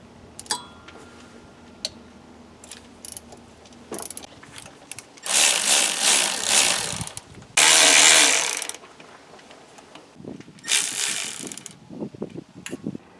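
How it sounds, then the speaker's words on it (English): A ratchet clicks in several short bursts while loosening Torx T40 bolts on the upper plenum of an 82-92 Camaro/Firebird TPI engine, with handling clatter in between. "Now loosen the upper plenum on this side. There's 4 Torx headed bolts."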